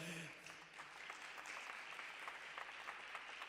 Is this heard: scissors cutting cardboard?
no